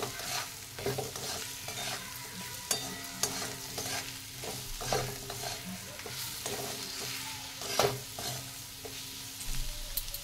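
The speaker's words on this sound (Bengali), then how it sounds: "সবগুলোকে ভালো করে ভেজে নেব মশলাগুলোকে" Ground cumin, coriander powder and salt fry in a hot pan while a utensil stirs them, making a continuous sizzle broken by repeated scraping knocks against the pan.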